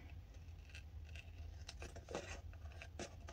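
Scissors snip through a planner sticker in a quick series of short, close cuts, each a bright crisp rustle over a steady low room hum, with no talking.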